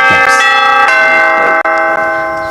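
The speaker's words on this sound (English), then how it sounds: "there goes the bell" A stock market opening bell rings at the start of trading, loud ringing strikes with long sustained tones that decay over a couple of seconds, heard alone.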